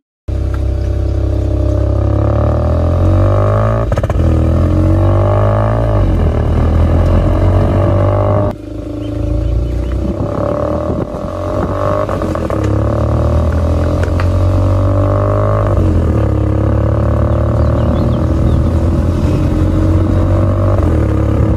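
Hyundai N Line car with a twin-tip sporty exhaust, a loud, close engine note that revs and drops in repeated surges, a steady throaty drone with a brief dip midway, and no talk over it.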